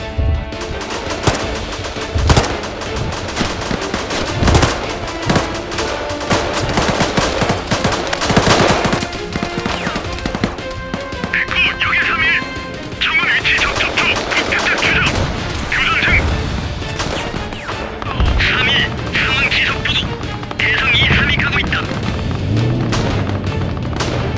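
Rapid bursts of machine-gun and rifle fire in a firefight crack and rattle through most of the stretch, with heavy booms mixed in and people talking over the shooting.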